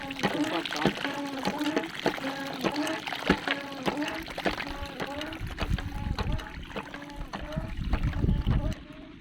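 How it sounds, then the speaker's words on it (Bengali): A foot-operated tubewell pump used to irrigate a field spills water in a steady gushing splash, with the rhythmic creak and thump of each pump stroke repeating throughout and someone talking over it. "দেখেন পানি কি পরিমাণে পানি বেরিয়ে।"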